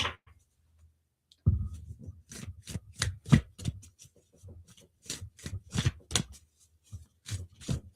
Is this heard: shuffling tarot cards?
yes